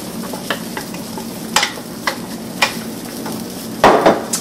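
Chopped cilantro stirred into a pot of borracho beans cooking on the heat, with a steady sizzle and a few soft scraping stirs of the spoon at intervals, a louder stir near the end.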